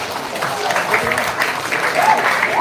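An audience in Gianyar, Bali, applauds after a drama gong performance accompanied by a gong ensemble, loud crowd clapping mixed with chatter and voices, fairly close and continuous.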